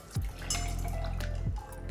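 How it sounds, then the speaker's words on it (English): A Planter's Punch cocktail is poured from a shaker into a glass, giving a steady close liquid pour with gurgling glugs and a few splashy drips. "Now we can just open pour into our glass"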